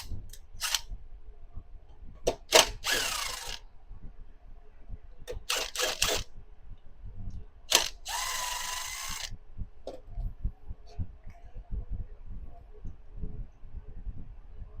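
Bolts being removed with a tool from an Echo leaf blower during repair, heard as two short bursts of rasping, clattering mechanical noise among scattered clicks and handling knocks.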